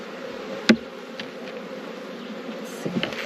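Bees drone softly around a strong honeybee hive, a steady low hum broken by a sharp knock near the start and a few light taps near the end.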